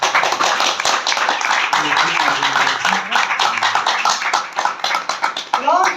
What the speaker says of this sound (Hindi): एक बार खुदा बाप, खुदा बेटे, खुदा रूह के लिए जोरदार ताली।